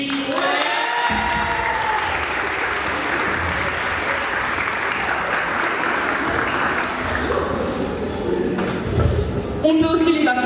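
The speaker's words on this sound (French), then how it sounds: "On peut aussi les applaudir." An audience bursts into sustained applause at the close of a school project presentation show, steady dense clapping for several seconds, with a voice speaking over it near the end.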